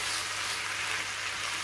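Vegetables fry uncovered in a pan over high heat, a steady dense sizzle and crackle running close and continuous throughout, with a low hum underneath and no talking.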